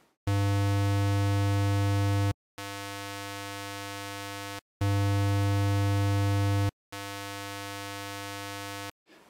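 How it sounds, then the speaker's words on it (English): Two steady buzzy low 100 Hz square-wave tones at -20 dB, one filtered, alternate, each held about two seconds with brief silent gaps, one louder than the other, repeating twice. "generating a 100Hz square wave at minus 20 dB. Listen to the two tones again."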